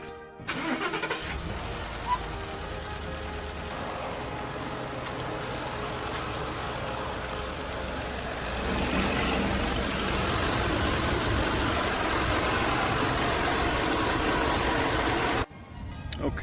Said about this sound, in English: time to turn the engine on